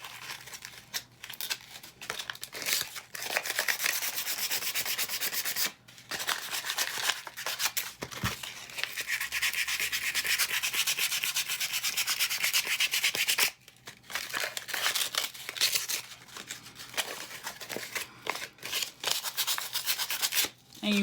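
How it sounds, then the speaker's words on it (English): Sandpaper roughens the surface of a pen before epoxy goes on. Steady, close scratchy rubbing runs almost nonstop, with brief pauses between passes. "sandpaper the pen so it is rough, because you want your epoxy to have something to hold on to"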